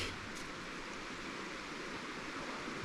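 Creek water flowing at a state park on a summer day, a steady, even rush of running water that fills the clip without pause, with no voices.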